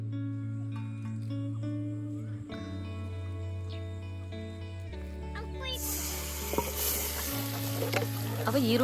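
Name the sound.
ground masala frying in heated oil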